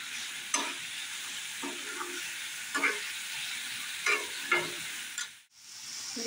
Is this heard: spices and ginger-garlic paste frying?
yes